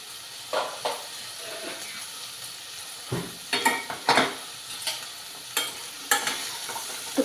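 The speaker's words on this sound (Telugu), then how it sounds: "ఉల్లిపాయలు వేగిపోయి ఇప్పుడు క్యాప్సికమ్ తరిగి పెట్టి ఉంచుకున్నవి వేసుకోవాలి ఇందులో" Chopped capsicum frying with browned onions in a pan, a steady sizzle broken by repeated scraping stirs with a utensil, close and moderately loud, no voices.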